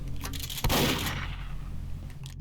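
Rapid gunfire in the video game Monster Hunter rattles on continuously, loudest in a dense burst early on before easing to a steady, somewhat muffled stream.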